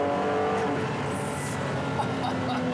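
Maserati MC12 Corsa race car engine pulling hard under full acceleration, a steady loud roar that fills the whole stretch with a brief high whine partway through, no voices.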